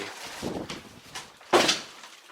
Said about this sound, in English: I just shut this door, it's quite windy.